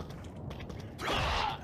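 A door being busted open in Resident Evil 4 VR, a short mechanical creak and rattle that bursts louder after a brief quiet stretch, close and alone without talk.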